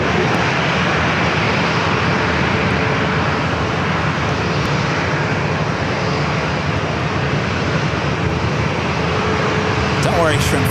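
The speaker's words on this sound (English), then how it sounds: "Clear to take off 27 Southwest 1860." Southwest airliner taking off from runway 27 at San Diego airport, a steady broadband engine roar holding loud and constant throughout, with faint speech underneath.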